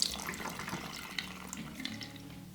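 Tap water runs in a soft, steady trickle onto fingertips at a bathroom sink during a skincare routine, faint and close with small splashy flicks throughout.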